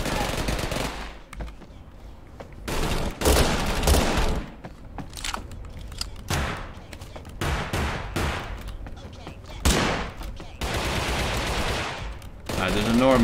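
Gunfire rattles in bursts in Totally Accurate Battlegrounds, loud rapid automatic shots with heavy recoil, in several volleys separated by short pauses, with someone speaking between them.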